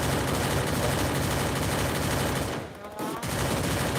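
Sustained rapid gunfire in the mobile battle game Free Fire, loud and continuous with a brief dip near the end, likely with players talking over it.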